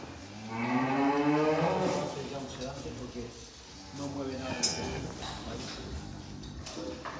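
A cow in a barn gives a long, loud moo with layered tones, followed by softer lowing, while people talk over the background.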